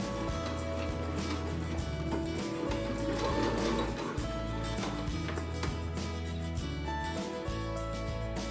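Sewing machine back stitching at the edge of fabric, a steady close mechanical whirr that runs continuously with slight rhythmic variation throughout.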